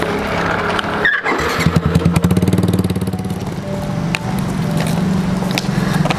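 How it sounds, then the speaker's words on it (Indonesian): A motorcycle engine runs nearby as the bike is parked, with a brief bump, then a pulsing idle and revs that continue steadily under light background noise. "Mending aku parkirin motor aja."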